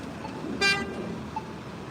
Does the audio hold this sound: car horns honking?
yes